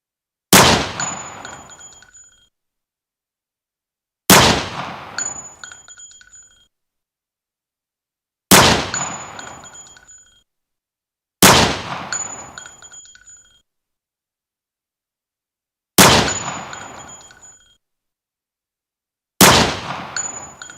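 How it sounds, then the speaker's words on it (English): A G&G GTP9 airsoft pistol fires .25 BBs into a trash can, six separate loud shots spaced a few seconds apart, each a sharp crack followed by a ringing metallic clang that decays, with silence between. "chrono it for you by shooting it into a trash can"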